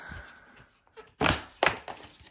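Seat being pulled off a Kawasaki KLX110 dirt bike. A few dull thunks and knocks sound close by, spread over two seconds after a quiet start.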